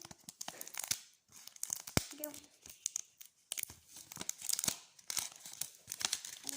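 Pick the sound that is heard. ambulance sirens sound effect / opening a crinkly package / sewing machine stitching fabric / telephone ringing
opening a crinkly package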